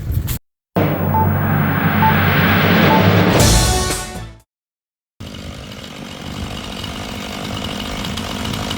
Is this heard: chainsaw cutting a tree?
yes